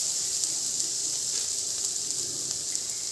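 Chicken noodle ingredients sautéing in a pan give off a steady, fairly quiet sizzling hiss that holds evenly throughout, with no talking.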